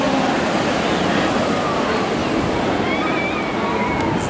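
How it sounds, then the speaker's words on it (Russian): Ocean surf at the Puerto Vallarta resort, heard from a room's private jacuzzi terrace, gives a loud, continuous wash of breaking waves with no pause. "Вот он океан."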